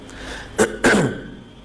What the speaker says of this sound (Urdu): ذرا گلا کچھ سیٹنگ آؤٹ ہوئی ہوئی ہے اس لیے تھوڑا سا بار بار کھانس رہا ہوں